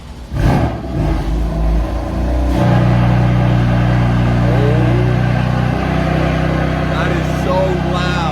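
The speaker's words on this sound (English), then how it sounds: "I'm gonna start it up for the first time." A BMW M4 F82 with VRSF single midpipes and downpipes fires up: a loud starter crank and bark, then a steady rumbling idle close to the microphone, with brief speech over it.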